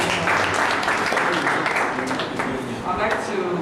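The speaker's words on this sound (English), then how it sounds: "Another round of applause for the team." An audience claps loudly and steadily for a team, a thick, close burst of many hands that carries on without a break, with a voice talking beneath it.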